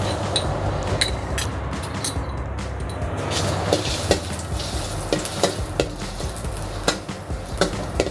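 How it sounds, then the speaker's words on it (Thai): Garlic frying in hot oil in a wok, a steady loud sizzle with scraping stir strokes running throughout, no voices. "เดี๋ยวรอกระทะร้อนเดี๋ยวเราจะใส่ กระเทียมลงไปค่ะ"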